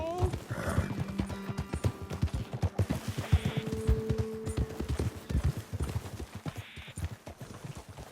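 Horses in the Red Dead Redemption 2 video game clip-clop along in a steady rhythmic trot with occasional neighs and whinnies, while characters talk over the hoofbeats.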